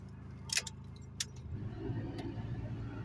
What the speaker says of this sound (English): Everything's off, but the car's still running.